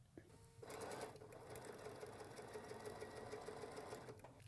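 A sewing machine runs steadily and close up, stitching a Christmas quilt block after a brief start, with an even, continuous whir for several seconds before stopping.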